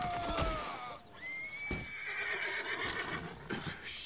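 A horse in Red Dead Redemption 2 lets out loud, close whinnies with rising and falling squeals, alongside a few hoof clops and snorts, and no talk over it.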